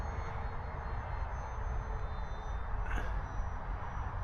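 Electric motor and propeller of an FMS Cessna 182 RC model airplane in flight, a steady broadband whir holding at an even level throughout, with a brief brighter swell near the end.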